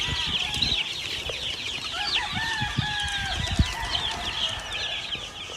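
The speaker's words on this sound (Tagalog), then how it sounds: "More than 400 chickens. 400 chicks more." Hundreds of chickens and chicks on a gamefowl farm cluck, peep and chirp together in a dense, constant chorus, with occasional louder calls and a distant crow over faint outdoor background.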